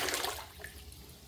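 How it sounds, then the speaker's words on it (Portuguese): Room-temperature tap water, about 14 litres, pours into a plastic basin with a steady rushing splash that eases slightly toward the end, close and fairly loud with no voices. "Vou entrar aqui com 14 litros de água em temperatura ambiente, água lá da torneira."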